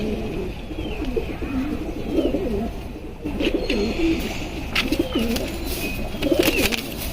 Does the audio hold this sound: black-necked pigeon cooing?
yes